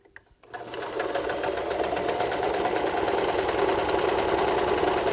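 A sewing machine stitches a seam on a knit beanie. It starts after a brief quiet moment, then runs as a steady, fast, even mechanical whir, close and loud throughout.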